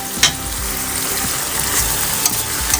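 Chicken stir-fried with onion and spring onion in a hot pan, a steady close, loud sizzle with a few faint scrapes of stirring, no talking.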